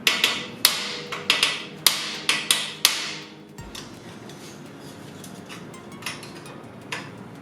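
Hammer blows on a stripped nut on a road bicycle under restoration, about eight sharp metallic strikes in quick succession, then quieter scattered taps and workshop handling, close and without speech.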